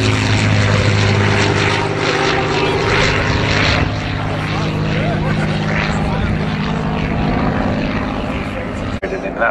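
A Mark XI Spitfire's piston engine drones loudly and continuously at an air show, a close, throbbing propeller roar that holds steady throughout with a slight dip midway.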